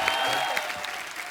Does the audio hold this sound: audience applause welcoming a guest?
yes